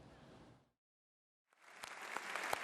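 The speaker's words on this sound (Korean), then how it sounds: "연단 위에서 손을 들어 인사하자 환호와 박수가 쏟아집니다." Cheering and applause from members of the US Congress at a joint session, breaking off into a gap of silence and then swelling again as a loud, dense crowd roar with sharp claps and whoops.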